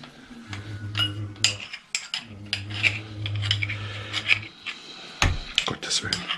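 Metal tools and parts of a Gazelle Chamonix Comfort bicycle's faulty bottom bracket clink and scrape close by while it is loosened, brief knocks and rattles over a low steady hum, with a voice murmuring in between.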